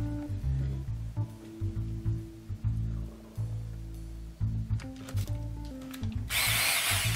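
A corded electric drill whines loudly in repeated bursts, its motor pitch rising and falling as it starts and stops, ending with a harsh grinding rush.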